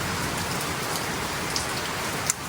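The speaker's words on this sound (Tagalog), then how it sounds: "So ayan, umuulan." Steady rain falls outdoors on a muddy garden of plants, a dense, even hiss of drops hitting surfaces, moderately loud and continuous, with no voices.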